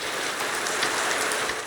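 Steady, dense rain hisses continuously in Minecraft, an even wash of patter without pauses or distinct drops, fairly loud and alone.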